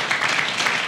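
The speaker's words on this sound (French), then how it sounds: "je demande qu'on applaudisse très fort également" Applause from a crowd at a company party, a dense steady wash of clapping lasting under a second, fairly loud and with no voices over it.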